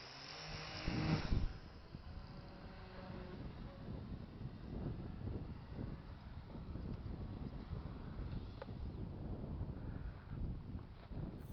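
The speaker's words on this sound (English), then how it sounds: "But there's a gust of wind." Outdoor wind gusts buffet the microphone during a maiden flight of a Hangar Rat RC plane conversion, a loud rough burst at first and then a steady rumbling roar that continues alone.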